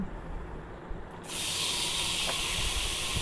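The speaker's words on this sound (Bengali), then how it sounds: "কড়াই গরম করে সর্ষের তেল দিয়ে একটু জিরে ফোড়ন দিলাম, একটু হলুদ দিয়ে দিচ্ছি, একটু লবণ দিয়ে দিচ্ছি। এবার কাটা আলুটা দিয়ে দেব।" Cut potatoes dropped into hot mustard oil with cumin, turmeric and salt: a low background murmur suddenly gives way to a loud, steady hissing sizzle that continues to the end.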